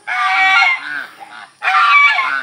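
Two loud, harsh honking calls from chickens, close by and separated by a short pause, like poultry squawking.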